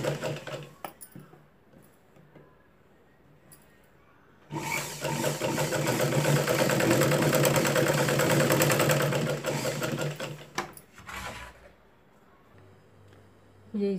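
A sewing machine stitching a tuck blouse runs in one loud, steady whirring burst of about six seconds, with quieter handling sounds before and after it.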